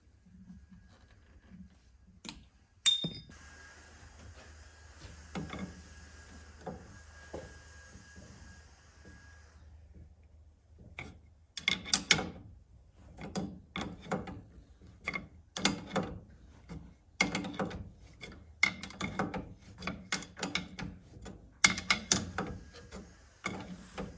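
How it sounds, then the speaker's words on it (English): Ratchet wrench clicking on the steering wheel nut of a 1947 Willys CJ2A Jeep, a faint metallic clank followed by bursts of rapid close-up ratcheting that grow busier and louder. "Now we have to take the steering wheel off."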